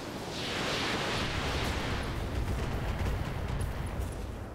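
Battle mech in RogueTech firing a volley of weapons including medium lasers, a loud sweeping blast that swells into a dense rumbling barrage of impacts, with no voices over it.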